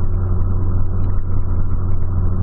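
Volkswagen Polo cruising on a highway, a steady, loud low engine drone with constant road rumble filling the whole moment, no voices over it.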